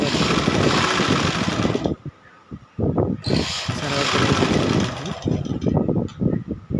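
A sewing machine stitches canvas in repeated bursts of mechanical whirring, pausing briefly around the second mark before running again in close, loud stretches.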